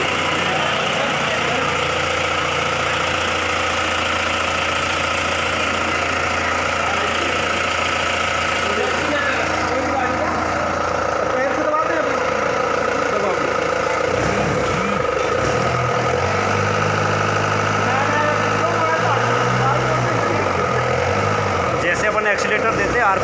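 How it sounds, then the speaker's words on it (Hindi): A diesel engine demonstrated at an ITI workshop runs steadily with a low, continuous mechanical drone and vibration, loud and close, with shifts in tone partway through as it idles and revs. "डीजल इंजन को चालू करके सर ने अभी दिखाया"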